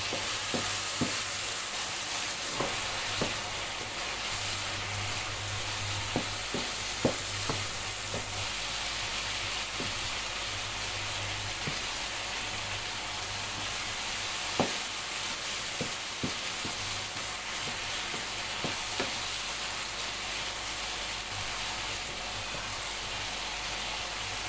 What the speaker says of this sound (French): Je mets mes légumes dans la poêle casserole